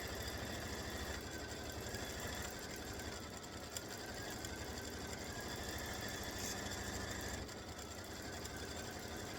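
A computerized embroidery machine stitches a peace symbol edge-to-edge design, giving a steady, loud mechanical whir with a constant motor hum and fast rhythmic needle chatter that runs continuously, easing slightly near the end.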